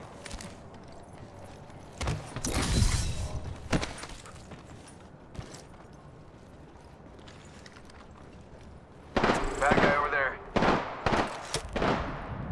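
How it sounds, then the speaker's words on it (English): Video game gunfire in a battle royale match, several separate bursts of shots at moderate distance with quiet gaps between them, and speech heard faintly in the background. "Opening fire."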